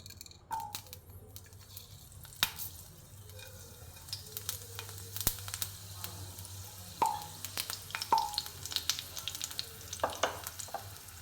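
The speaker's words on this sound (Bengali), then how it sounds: "ফোড়নটা একটু ভালো মতন ভাজা হোক" Panch phoron five-spice and a torn green chilli sizzle in hot mustard oil, a steady close fry with scattered pops and crackles and occasional stirring scrapes, no voices.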